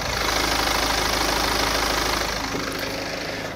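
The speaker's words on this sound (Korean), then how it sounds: "엔진룸 개폐했습니다. 엔진음 들려드릴게요." A BMW 5 Series (G-body) engine idles steadily up close with the hood open, a low even hum with faint mechanical ticking that eases slightly toward the end.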